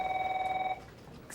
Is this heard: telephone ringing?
yes